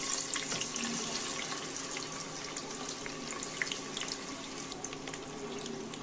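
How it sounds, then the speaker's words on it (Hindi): Onion sizzles in hot oil inside a pressure cooker, a steady rushing hiss with scattered crackles, close and moderately quiet, with no speech. "अब हम इसमें डालेंगे अनियन।"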